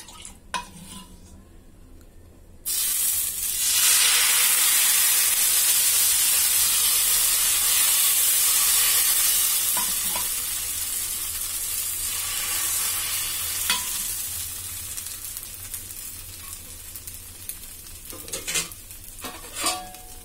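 Rice flour batter for ghavne hits an oiled pan with a sudden loud hiss that stays steady and close, slowly easing, with light utensil clinks near the end.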